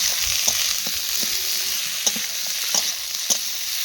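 Potatoes, peas and flat beans are stirred as they fry in a pan for a light vegetable curry. Soft, even sizzling runs throughout, broken by a few distinct scraping and clinking stirs.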